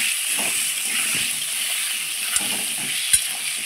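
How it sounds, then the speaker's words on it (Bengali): Potato pieces frying in hot oil with salt and turmeric, a steady close sizzle and hiss throughout with a couple of sharp utensil taps against the pan. "আলু ভাজতে ভাজতে এদিকে আমি বাটনাটাও করে নেব"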